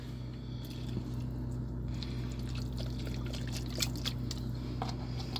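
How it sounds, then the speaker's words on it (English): Beef stock poured into a pan for simple gravy while making meatloaf, a soft steady liquid trickle over a low continuous hum, fairly quiet and even throughout with no talking. "I'm going to use some beef stock, and you just put a little bit in at first."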